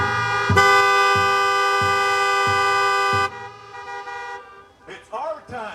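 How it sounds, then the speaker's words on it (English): A loud sustained car horn blares for a few seconds at a rally, followed by shorter fainter honks, then people talking at the end. "If you guys believe that, honk your horns"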